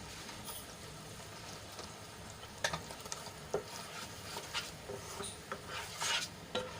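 Gravy being stirred as it fries in hot oil while cooking a new vegetable curry, with a steady close sizzle and irregular scraping and clinking of a spoon against the pan, no voices.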